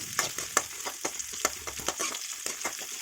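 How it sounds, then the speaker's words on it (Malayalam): Dried red chillies and shallots fry in coconut oil in a pan for a Kerala-style ash gourd and drumstick curry, a steady close sizzle broken by sharp, irregular scraping clicks of stirring, with no voices. "ഇനി ഒരു ചീനച്ചട്ടിയിൽ വെളിച്ചെണ്ണ ഒഴിച്ച് അതിലേക്ക് വറ്റൽമുളക്, ഒരു 5-8 വറ്റൽമുളക് ഇട്ട് കൊടുത്ത് വഴറ്റണം."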